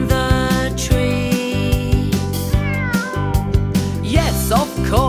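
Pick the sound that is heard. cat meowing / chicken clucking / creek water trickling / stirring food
cat meowing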